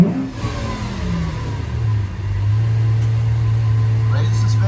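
Lamborghini Aventador supercar engine revving during unloading, a loud near rise in pitch settling into a steady droning hum, with voices speaking over it.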